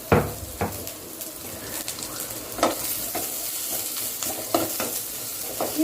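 Garlic roasting in a little oil in a pan, a steady low sizzle with occasional sharp stirring and scraping clicks from a utensil, close and moderately loud, no talking.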